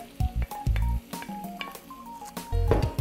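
Onion added to browning beef in a hot pan for boeuf bourguignon, loud bursts of sizzling as pieces hit the fat, with stirring scrapes and a steady frying hiss between them.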